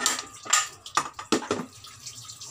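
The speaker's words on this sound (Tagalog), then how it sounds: "hugasan lang natin ng maigi ang ating sea bass fish" Tap water running over a scaled and gutted sea bass being washed in a sink, splashing in uneven bursts and gushes, close and moderately loud, with no talk.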